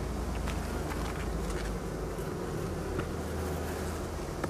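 Honey bees buzzing densely on hive frames during a silent queen supersedure, a continuous close, loud hum with scattered brief rustles, no talking.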